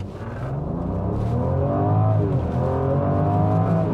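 A 2024 Range Rover Velar's inline-six engine is floored from a launch, its note climbing steadily in pitch through the gears, loud and close with a continuous rising drone.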